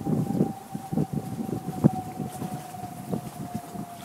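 Wind blows in gusty, rumbling bursts against the microphone, with a faint steady whine running underneath.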